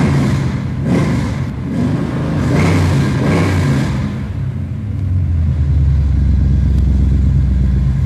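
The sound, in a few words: car engine revving with throttle response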